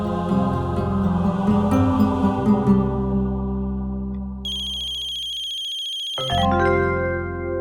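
A phone ringtone plays a melodic electronic tune, loud and close, followed by a higher beeping tone and the melody starting again.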